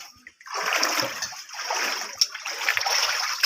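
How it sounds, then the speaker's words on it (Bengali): Floodwater splashing and sloshing inside a flooded rural kitchen, a steady close wash of splashes and trickles with a few sharper splatters. "পানি অনেক বেশি"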